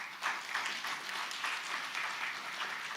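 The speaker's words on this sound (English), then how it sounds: "I encourage just some applause for the organizing committee" Conference audience applauding the organizing committee, a soft, distant patter of clapping from a large hall that stays even for a few seconds.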